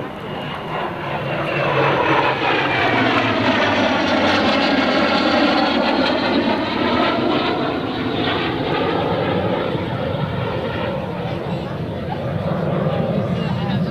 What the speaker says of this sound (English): here he comes now in his first pass from left to right in the high-speed pass of the L-39